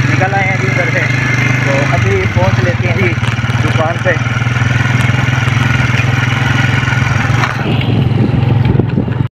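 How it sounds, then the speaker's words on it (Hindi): A motorcycle ridden along a dirt road gives a steady close engine drone with rattling over the bumps, while people talk over it throughout before it cuts off at the end. "बाइक स्टार्ट कर लिया जी,"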